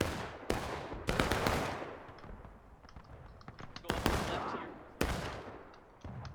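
Musket gunfire in the Civil War video game War of Rights: sharp, loud shots crack out irregularly, some close together like a ragged volley, with fainter distant reports between them.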